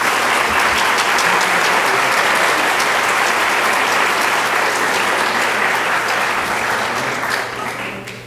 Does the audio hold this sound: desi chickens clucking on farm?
no